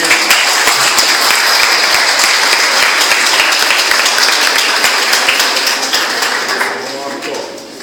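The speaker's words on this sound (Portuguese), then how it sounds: "Pode aplaudir, igreja." A church congregation applauds after a baptism, steady dense clapping filling the room before tapering off near the end, with some voices mixed in.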